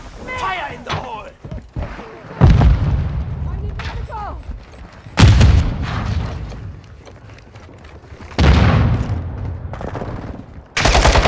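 Call of Duty Modern Warfare 2 gameplay with a grenade exploding as a sharp boom, amid several other booms and bursts of gunfire, under shouted voices from game characters.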